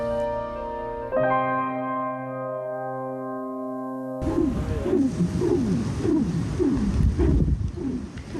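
A steady, whistling hum with layered tones drones on from a high-wire walking rope vibrating in strong wind at 50 metres up, then gives way to loud, gusty wind roaring in repeated surges.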